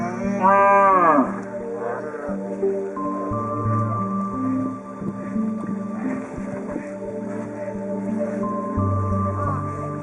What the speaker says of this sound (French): Voilà un troupeau de zébus à qui l'eau ne fait pas peur.